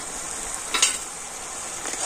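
A spice masala with slit green chillies and sour yogurt sautés in a pan, a steady soft sizzle broken by a couple of short stirring scrapes, close by.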